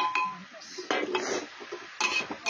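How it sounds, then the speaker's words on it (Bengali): A pressure cooker lid fitted onto a pot of cauliflower being cooked, with a few metallic clinks and scrapes in short bursts, close by. "প্রেসার কুকারে ঢাকনাটা লাগিয়ে দিচ্ছি।"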